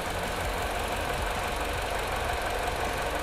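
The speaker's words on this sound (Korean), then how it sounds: "엔진 소리 일정하네요." A Mini Cooper Clubman engine runs at a steady idle in the open engine bay, a constant loud mechanical hum and clatter with no change in pace and no talking.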